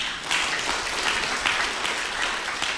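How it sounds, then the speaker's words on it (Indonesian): Church congregation clapping together during an Indonesian sermon, a steady wash of applause at moderate distance with a few louder swells, no voices standing out. "Yang setuju tepuk tangan bagi Tuhan"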